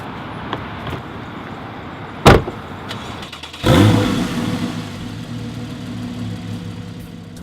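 A 2014 Porsche 911 idles steadily on a winter day, a door thumps shut, then the engine revs up loudly and the car pulls away, its rumble settling into a steady drive.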